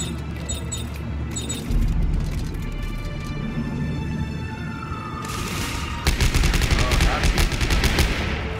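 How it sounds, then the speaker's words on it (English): Shotgun blasts in the sci-fi horror game Dead Space 3, dense gunfire and booms that swell into a loud burst of rapid shots near the end, layered with game effects and occasional voices. "It's like a little shotgun type of deal."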